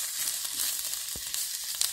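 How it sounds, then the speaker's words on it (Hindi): Capsicum sautéing on full flame for veg Manchurian, giving a steady, bright sizzle that holds evenly throughout, with one brief low knock partway through. "थोड़ा सा सौते कर लेते हैं, फुल फ्लेम पर ही सौते करना है।"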